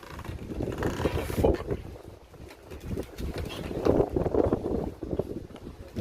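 Strong wind blowing outdoors near beehives, a rough, gusting rumble buffeting the microphone in surges that rise and fall across the clip, close and fairly loud with no one talking.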